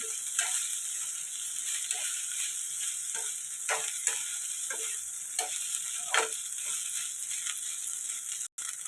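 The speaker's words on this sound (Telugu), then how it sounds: "ఇప్పుడు ఐ ఫ్లేమ్ పెట్టుకొని బాగా ఫ్రై చేసుకున్నాను టాస్ చేసుకున్నాం" Egg fried rice sizzles steadily in a pan over a high flame, with soft scraping and stirring taps as it is tossed, heard close with no talking.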